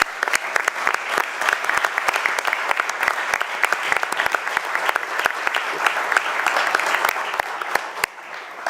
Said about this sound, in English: Give them a huge round of applause once again.